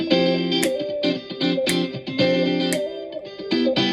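Chopped electric guitar chords ring out in short rhythmic bursts, washed in reverb and effects, with sharp percussive hits between them.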